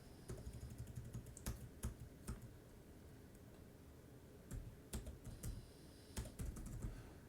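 Typing on a computer keyboard, with quiet, close key clicks coming in uneven bursts and short pauses, alone with no speech.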